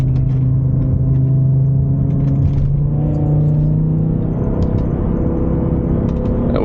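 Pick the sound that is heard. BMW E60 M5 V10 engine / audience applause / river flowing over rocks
BMW E60 M5 V10 engine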